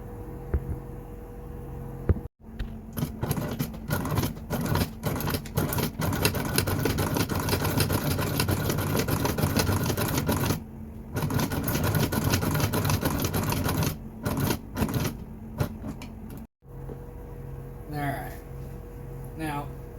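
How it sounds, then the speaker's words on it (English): A sewing machine stitching the first line on a leather shoulder holster, a steady close mechanical whirring hum running for long stretches with brief stops and restarts. "I'm going to take that to the sewing machine and put in my first stitch line."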